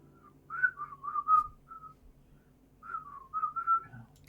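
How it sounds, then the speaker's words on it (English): A person whistling a short, wavering tune in two phrases separated by a brief pause, close and fairly quiet over faint background hum. "Bit of entertaining whistling there."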